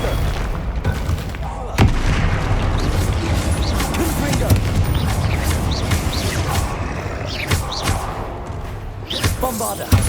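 Bombarda blasting spells in Hogwarts Legacy go off repeatedly as loud booming thuds over a dense, rumbling game soundscape, with sharp impacts near 2 and 9 seconds.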